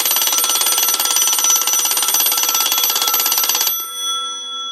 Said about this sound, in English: that thing is an alarm. You can't shut it off either. You've got to wait for it to wind down.